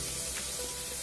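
Onion frying in melting butter in a frying pan gives a steady, close sizzling hiss throughout, with no voices.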